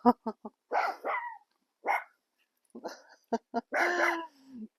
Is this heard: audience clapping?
no